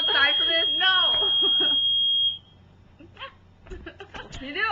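A fire alarm sounds a steady, high, piercing tone for about two seconds while people talk and laugh over it, then cuts off, leaving only voices.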